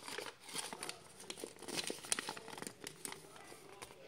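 Paper wrapper from a surprise egg sticker being crumpled by hand, a soft, continuous crinkling and rustling close by, with small crackles over a quiet room and no talk.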